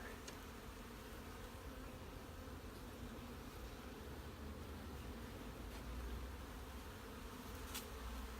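Honeybees hum inside the honey box of a south hive during an inspection, a steady, faint, continuous buzz with no voices over it.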